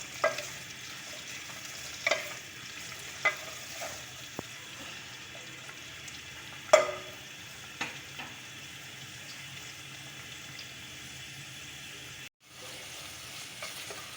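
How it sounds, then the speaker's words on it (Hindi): Onions fry in a pan for keema while being stirred continuously, producing a steady low sizzle punctuated by repeated sharp spatula knocks and scrapes, with one brief dropout near the end. "मैं मुस्तकिल प्याज को चला रही हूँ, ताकि प्याज जो है मेरी जले नहीं और पिंक रहे"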